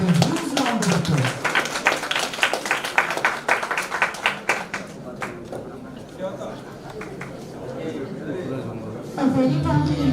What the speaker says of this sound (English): So let's welcome her with a huge round of applause.